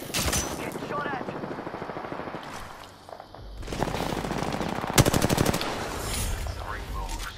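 Rapid automatic gunfire bursts in the game Apex Legends, loud and close, with a dense volley midway and more shots following, layered over a busy battle mix while a player talks.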